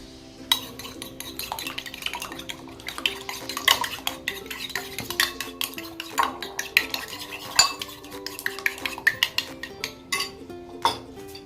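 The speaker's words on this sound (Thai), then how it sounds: "ขั้นตอนแรกก็เริ่มตีไข่ก่อนครับ" Rapid clinking of a utensil against a bowl while whisking eggs, quick irregular taps repeating throughout at close range, with no talking.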